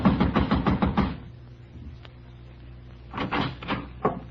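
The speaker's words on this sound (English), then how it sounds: "I walked over and started knocking again." Knocking on an apartment door in an old radio detective drama, a quick run of about eight close, firm raps, then a pause and another short burst of knocks.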